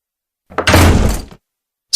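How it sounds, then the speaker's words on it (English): A door slams shut once with a loud, close, heavy thud, short and alone against silence. "Slam."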